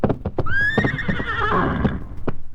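A horse whinnies loudly in a classic western cowboy film, one long rising-and-falling neigh over the 2.6 seconds, with clip-clop hoof sounds and short thumps around it and no talk.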